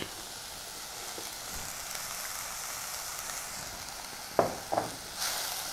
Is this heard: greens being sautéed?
yes